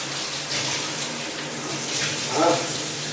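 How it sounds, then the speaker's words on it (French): A faucet that cannot be turned off runs hard and continuously, a loud close hiss of water with no talk over it. "Ah, il y a beaucoup de bruit. C'est mon robinet."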